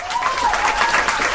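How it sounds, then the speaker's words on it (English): Audience applause at the opening of a Q&A Sunday show, a dense, continuous burst of clapping heard close and loud for a brief moment, with a faint whistle-like tone over it. "Okay, that's enough of the applause now."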